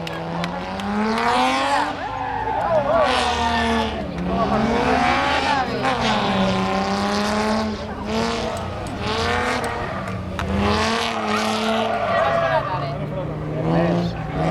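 A BMW four-wheel-drive rally car on a stage of the Osona rally, engine revving up and down in repeated loud climbing and falling sweeps with tyre scrabble, close by, while people talk throughout.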